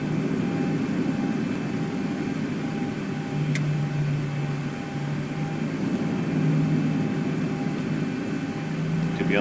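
Boeing 737 in X-Plane 11 starting its takeoff roll on a Ryanair route from Wroclaw, a steady engine drone and cabin hum holding at an even level throughout, with a faint tonal whine rising and settling underneath.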